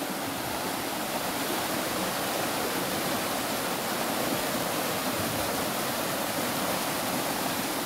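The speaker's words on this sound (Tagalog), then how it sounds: "Ito yung ilog nila. Ganun yung ilog." A countryside river in Nagcarlan, Laguna rushes steadily, a dense, even wash of flowing water held close and loud for the whole stretch with no voices.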